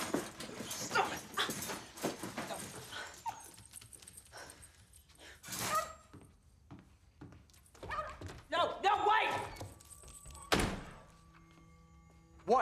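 A dog in a film whimpers and yelps in short bursts, mixed with thuds and knocks at close range while people talk over it.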